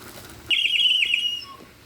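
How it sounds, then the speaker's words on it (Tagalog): A bird whistle partly filled with water gives one warbling, trilling call of about a second, loud and close, with no talking. "yung bird whistle po natin, sir, kailangan po may konting tubig siya"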